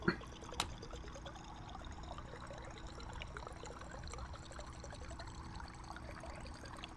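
Water pouring into a bottle in the space survival game Stationeers, a faint, steady trickle after a couple of brief clicks at the start.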